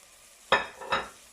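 Carrots and onion sautéing in a pan for carrot soup, two bright bursts of sizzling as the vegetables are stirred, each fading quickly back to a quiet background.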